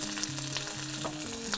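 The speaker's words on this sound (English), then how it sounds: "Fry it up so it's a little fragrant, about 10 seconds. Then we're gonna add about 3 to 4 red chilies." Red chilies hit a wok of hot oil with minced garlic, giving a dense, continuous close-up sizzle with crackling pops and a faint low tonal hum underneath, brief and unbroken.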